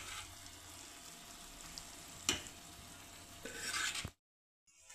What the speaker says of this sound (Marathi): व्यवस्थित अशी मिक्स करून घेतली भाजी